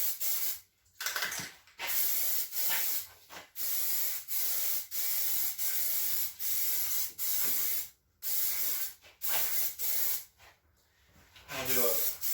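Plasti Dip sprayed from an aerosol can running low, giving repeated sputtery bursts of hiss separated by short pauses, close and fairly loud.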